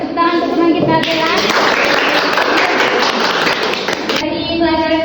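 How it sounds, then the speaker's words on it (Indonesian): Classmates in a classroom break into a burst of clapping for a fellow student, a dense patter of many hands lasting about three seconds, with a teacher's voice just before and after. "kasih tepuk tangan untuk teman kita Bella"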